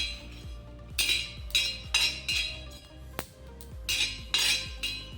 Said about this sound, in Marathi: आपले धणे लगेच भाजले जातात